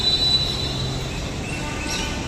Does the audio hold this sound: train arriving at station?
yes